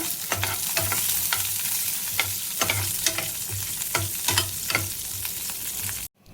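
Cashews and raisins frying in a pan for mango sheera sizzle steadily at close range, with frequent rhythmic spatula scrapes and taps before a sudden cut to silence near the end.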